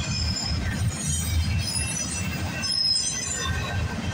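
A CPKC westbound freight train passes close by at speed, a steady loud rumble of rolling cars with high metallic wheel squeal running through the whole stretch, no voices.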